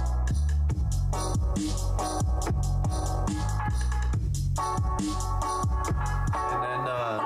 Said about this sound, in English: So I want to put some 808s in here like this.